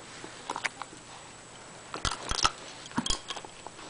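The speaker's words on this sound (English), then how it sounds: "This would be a certain white dog with something that belongs to the baby." A white dog sniffing at a baby's belongings indoors: a few faint short sniffs and soft scuffs, then a cluster of sharper snuffling bursts and small clicks, close by and quiet, with no talk.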